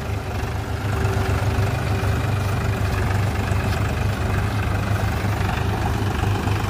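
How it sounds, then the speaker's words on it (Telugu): Two 4WD tractors, a Powertrac Euro 45 Plus and a New Holland Excel 4710, run in second high gear with a deep, steady diesel drone that holds loud and even for several seconds, with no talk. "ఇప్పుడైతే ఈ 2 ట్రాక్టర్లు వచ్చేసి హై గేరు సెకండ్ గేర్లలో రాబోతున్నాయి"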